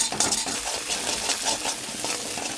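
Leftover masoor dal fries in a pan, a steady hiss of sizzling with quick scraping stirs and light clinks of a utensil against the pan, close and continuous.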